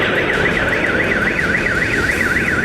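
Wavering siren sounding in Kyiv after explosions, its pitch rising and falling in a steady repeating cycle, loud and continuous over a low background rumble.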